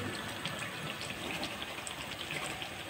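Potato tikkis frying crisply in hot oil in a pan, with a steady, dense crackling sizzle that stays even throughout, fairly quiet and close, with no talking.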